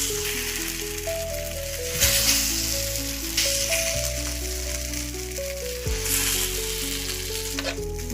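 Udupi-style breadfruit slices dipped in dosa batter sizzle one by one on a hot oiled griddle, a continuous crackling hiss heard beneath steady background music.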